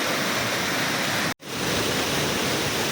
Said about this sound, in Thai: โอ้น้ำตก บนเขาภูตะแบงนะฮะ